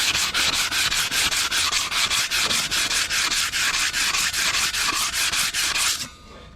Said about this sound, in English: got my 180 grit sandpaper and just kind of doing a once over on these guys